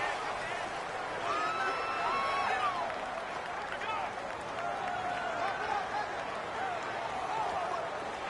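Steady roar of a home stadium crowd in a football video game, a constant wash of cheering and chatter with a swelling burst of noise that rises and settles, heard without any commentary over it.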